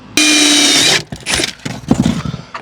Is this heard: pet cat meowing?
no